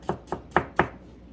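Four evenly spaced knife strokes cut onions into julienne strips on a board, each a crisp close chop, then quiet.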